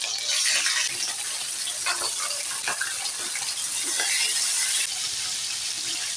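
Chicken pieces slid into smoking-hot oil in a kadai for chicken curry: a sudden loud hiss settling into a close, continuous bubbling sizzle.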